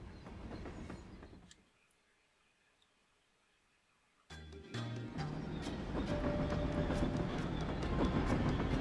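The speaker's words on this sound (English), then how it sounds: "This train will soon make a brief scheduled stop at Riverside Station." Train from the video game Paper Mario: The Thousand-Year Door, a rumble that fades into near silence, then returns with a clunk and builds into a loud, steady rolling clatter.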